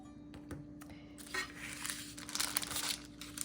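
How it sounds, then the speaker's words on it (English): Parchment paper crinkles and rustles as it is slid from one baking sheet to another, soft rustling bursts with a few light clicks in a quiet kitchen. "Actually, I'm transferring just the parchment paper."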